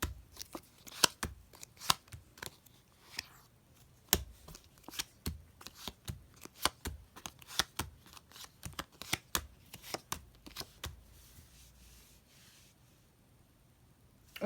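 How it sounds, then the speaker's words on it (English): Playing cards are tossed down one by one into three piles during a magic card trick, giving quiet, irregular flicks and slaps at close range with no talking. "And you're just going to throw down the cards."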